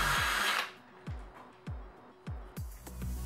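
A power drill cleans out a hole in the steel body of a Weber Master Touch kettle grill; after a loud opening burst, short whirring pulses repeat about every half second, each dropping in pitch as it fades.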